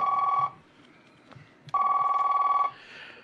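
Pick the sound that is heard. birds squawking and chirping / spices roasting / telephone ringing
telephone ringing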